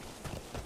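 A horse's hooves clip-clop briefly in the Metal Gear Solid V video game, a few quick soft thuds over low game ambience.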